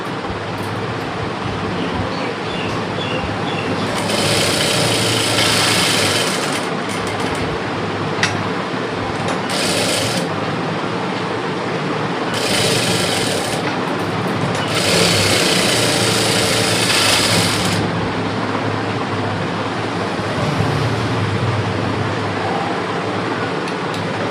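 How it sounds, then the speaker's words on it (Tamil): Sewing machine running in bursts while stitching around a 36-inch lined blouse, with several louder stretches of fast motor whir and stitching over a steady background hum, close and fairly loud with no talk. "சுற்றிலும் தையல் தான் போட போகிறேன்."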